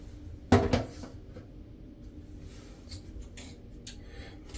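A plastic lid snapped back onto a container of plumber's putty, one firm clack followed by faint handling rustles and small clicks nearby, no talking.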